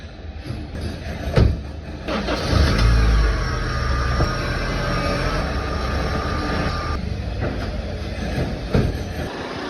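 A car at a driving class is reversed a short distance; its engine revs up loud and close, then settles into a steady hum.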